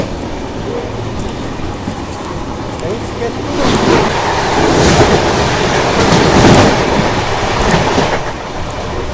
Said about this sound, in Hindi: यहाँ पर अभी अपनी महाराष्ट्र एक्सप्रेस पहुँच रही है धामणगांव रेलवे स्टेशन पर।